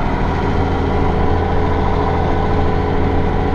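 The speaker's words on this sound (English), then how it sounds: "This tractor's got a clutch issue" A tractor engine with a clutch fault idles steadily close by, a loud, even low rumble with no variation in pace and no voices.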